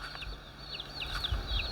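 Hens on a small homestead farm clucking in a quick string of soft, close calls over a low background hum.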